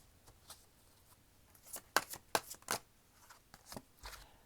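Tarot cards shuffled by hand in a quiet room, a few soft riffles building to three sharp, crisp bursts in the middle, then lighter flicks trailing off, close and alone with no talking.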